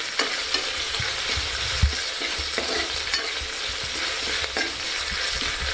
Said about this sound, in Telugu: అల్లం వెల్లుల్లి పేస్ట్ వేసుకున్నాక కూడా మళ్ళీ ఒకసారి కలుపుకోవాలి మనం.